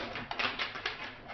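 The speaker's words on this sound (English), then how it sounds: "Let me shuffle again." Tarot cards shuffled by hand during a reading, a soft papery riffling and flicking of the deck in quick, irregular bursts, close and fairly quiet with no talk.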